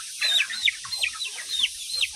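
A native Brahma chicken clucks in a quick, repeated series of sharp calls, close by and fairly loud, with faint farmyard background and no talking.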